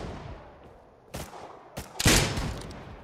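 Gunfire in the video game Rust during a console wipe-day raid: a few sharp shots ring out, the last and loudest leaving a long decaying echo, with no voices over them.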